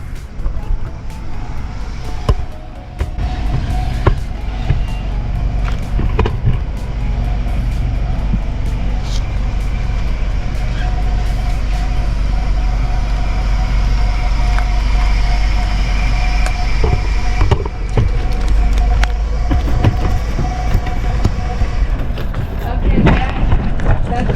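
A 2008 Ford Focus with a check-engine-light issue is heard on a test drive, a loud continuous low rumble of engine and road noise from inside the car, with occasional bumps and rattles.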